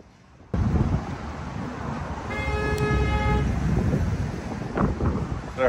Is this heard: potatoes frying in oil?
no